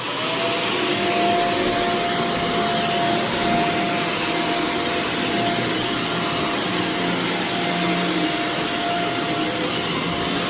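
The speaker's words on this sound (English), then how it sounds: "I still have to vacuum." A vacuum cleaner runs continuously over carpet, a loud, steady whine held close for the whole stretch.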